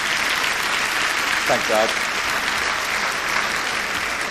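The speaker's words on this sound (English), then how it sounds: "A round of applause for all those nominees." Steady applause from a large televised awards-ceremony audience at the 2001 TV Week Logie Awards, filling the whole clip at a fairly loud level, with someone briefly speaking over it.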